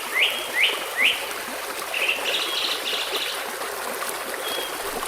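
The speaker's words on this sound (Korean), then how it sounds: "새소리에 봄 기운이 일어나고 물소리는 마치 사람을 부르는 듯 했습니다." Sharp chirping birdsong rings out in a few quick repeated calls and then in longer trills over the soft, steady trickle of a flowing stream on a spring day.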